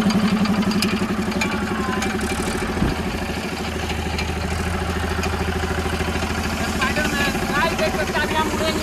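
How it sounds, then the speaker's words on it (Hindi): A tractor fitted to drive an air compressor starts and settles into a loud, steady, chugging idle with clattering mechanical noise, close by. "चलिए स्टार्ट कीजिए ट्रैक्टर।"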